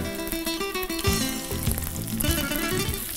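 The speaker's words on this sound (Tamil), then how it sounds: "வெங்காயம் முக்கால் பாகம் இந்த மாதிரி வதக்கிடணும்." Onions and ivy gourd sautéing in a pan on a Tamil cooking show, giving a steady close sizzle with scraping and stirring clatter throughout, and no talk.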